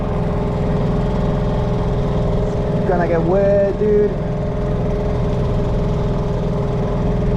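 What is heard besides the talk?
Hangkai 6HP 2-stroke outboard engine running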